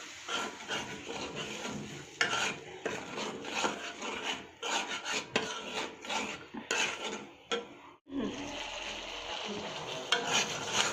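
Ginger-garlic and chili spice paste being worked in a pan for a koi fish and potato curry, with steady scraping and stirring strokes over a soft sizzle, close and continuous with a brief pause near the end.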